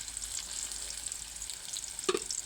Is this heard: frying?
yes